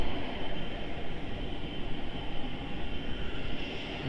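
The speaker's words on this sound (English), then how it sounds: "Jetstar pushing back in front of us." Jetstar airliner pushing back at Melbourne Airport, a continuous nearby engine drone and hum with a faint whine, steady throughout with no talking.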